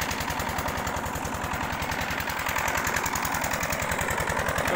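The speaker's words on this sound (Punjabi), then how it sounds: "ਇੰਜਨ ਹੋ ਗਿਆ ਸਟਾਰਟ" Farm tractor engine just started and running, a loud steady rapid thumping putter with a regular knocking pulse, close by and alone without talk.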